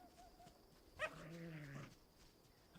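A dog gives a single drawn-out bark or yelp, a short tonal burst rising sharply then holding briefly before fading, heard fairly close against a quiet background.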